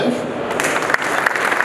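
An audience claps for prize-winning companies at an installers' awards ceremony, a short burst of steady, moderately close applause with a few sharper hand claps standing out.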